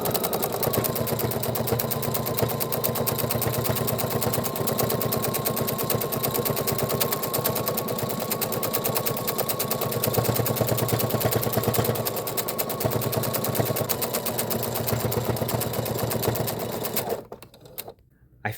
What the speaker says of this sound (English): that's the charm of free motion embroidery